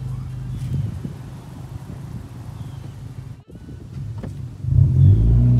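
Engine of a 10th gen Honda Civic with a newly installed shifter centering spring, idling with a low rumble and then revved up loudly near the end, close by.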